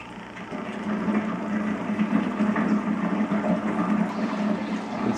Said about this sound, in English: You can see the water coming out right there.